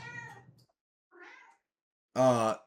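A house cat meows three times at close range, a clear call, a fainter softer one, then a loud drawn-out meow, with silence between them.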